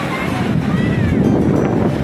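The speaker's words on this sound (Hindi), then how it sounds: "पानी की लहरें देखिए कैसे आ रही है।" Sea waves washing in on Digha beach in the late afternoon, a steady broadband rush of surf mixed with wind buffeting the microphone, continuous and fairly loud throughout with no clear break.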